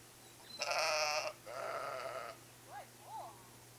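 Sheep bleat nearby, a couple of loud drawn-out calls followed by shorter, fainter bleats, over a low steady hum.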